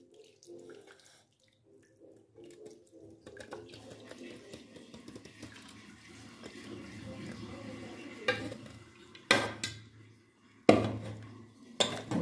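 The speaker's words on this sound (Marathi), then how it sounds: "मी ना इकडेच चाळण घेतलेले आणि त्या चाळणीतनं हे पाणी सगळं गाळून घेणार आहे" Water from boiled drumstick leaves poured through a sieve in a home kitchen, heard as a low running trickle that builds over the middle stretch, with a few sharp clanks and knocks of utensils near the end.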